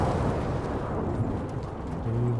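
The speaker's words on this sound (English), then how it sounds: "Was that an edited explosion?" A building-leveling explosion in an animated adventure series, a dense, continuous low rumble that stays loud and steady throughout with a deeper swell near the end.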